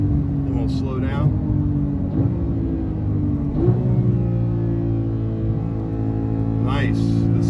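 Porsche 991.2 GT3 2018 flat-six with manual gearbox, revving hard while driving on the street, a steady loud engine drone with rising pitch sweeps as gears shift, occasional voice over it.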